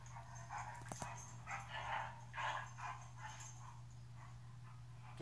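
A puppy whimpers and gives soft yips in a quiet room, faint and close, over a steady low electrical hum.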